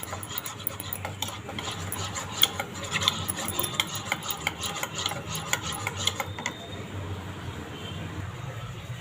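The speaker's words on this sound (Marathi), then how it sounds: "आणि पाव कप दूध छान मिक्स करून घेणार आहे" Corn flour being stirred into milk with a spoon in a pot for a sweet halva, giving a steady close rubbing and scraping with quick repeated strokes that ease off near the end.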